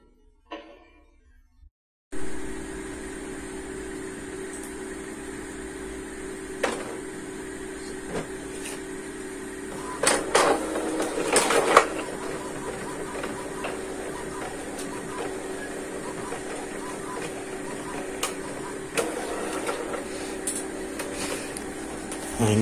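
A home printer prints a homemade invitation card, starting after a short quiet moment with a steady mechanical whir and scattered clicks that grow busier partway through, and no one speaks.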